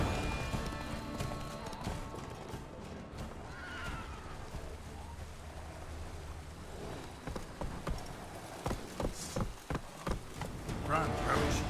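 Roach the horse in The Witcher 3 gallops with rhythmic hoofbeats and a whinny, while voices and rushing game ambience sound over it and the hoofbeats grow more pronounced toward the end.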